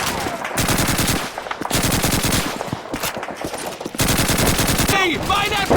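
Sustained bursts of machine gun fire from the Call of Duty 2 Rhine crossing battle, loud and close, repeating in long rattling volleys with brief gaps and faint shouted voices in the background.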